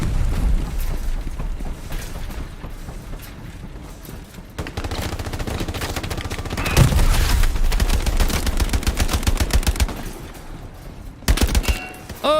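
Submachine-gun fire from an M3 grease gun in the World War II shooter game Hell Let Loose, with bursts and surrounding battle noise, including a heavy boom midway and a sharp burst near the end.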